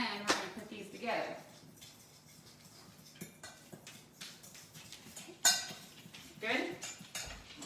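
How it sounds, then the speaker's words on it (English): A fork stirs a mixture in a bowl during tortilla cooking, giving light clinking taps against the bowl edge, near and intermittent, with a short bit of speech over them. "get in there with a fork and just stir it up like this"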